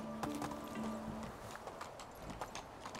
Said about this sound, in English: So I'm just gonna take the horse there.